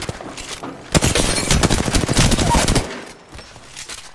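Incoming gunfire striking the player in Apex Legends, a dense close rattle of rapid impacts lasting about two seconds before dropping away to quieter sounds.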